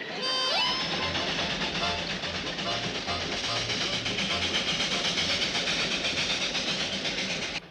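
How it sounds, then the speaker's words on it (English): A train rumbles steadily along with a continuous mechanical roar and rhythmic clatter, loud and close, holding constant throughout. "That beautiful little train."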